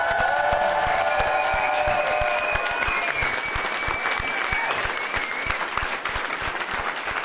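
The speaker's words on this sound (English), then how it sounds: "I love it when we can get 200 people in here cheering things on." Around 200 spectators at a national axe throwing championship clap and cheer in a sustained, dense wave of applause, with whoops and shouts that fade toward the end.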